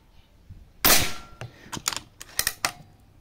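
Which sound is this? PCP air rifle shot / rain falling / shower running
PCP air rifle shot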